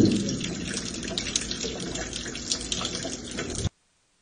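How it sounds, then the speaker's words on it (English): Water from a leaking classroom ceiling pours steadily into a bucket, a continuous splashing, gurgling stream that stops abruptly near the end. "A video of another classroom shows water raining from the ceiling into a bucket."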